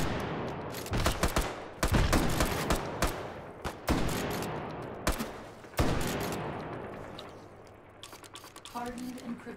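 Shotgun blasts in Hot Dogs, Horseshoes & Hand Grenades, a run of loud, sharp reports at irregular intervals with echoing decay between them, no talk, settling into quieter game noise near the end.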